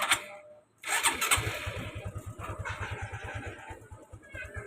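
A motorcycle engine cranks briefly, cuts out, then fires and settles into a close, steady, rapid idle.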